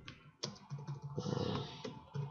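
Keystrokes on a computer keyboard while setting up a DOP network in Houdini software, a quick run of close, crisp clicks and taps in an uneven typing rhythm.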